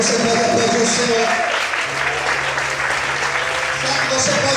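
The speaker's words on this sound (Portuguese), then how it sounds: "Você pode aplaudir o Senhor?" Congregation applauding during a church sermon on Jesus at Zacchaeus's house, a dense, steady wash of clapping throughout with faint tonal music or voice lines underneath.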